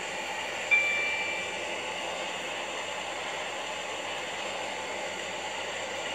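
A train from the SCR Connect service between Stepford Central and Morganstown in the Stepford County Railway video game runs with a steady, even rumble and hiss that holds for the whole stretch, with one brief soft bump near the start and no voices.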